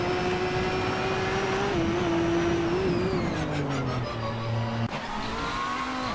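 Racing cars roar through a 2011 SCGP video game race, their engines forming a continuous loud, high drone that rises and falls slightly in pitch, with faint tire and shifting noises and no talking.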